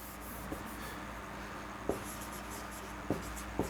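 Writing on a classroom board, a soft continuous scratching rub with a few faint taps, quiet and steady against low room noise, with no talking.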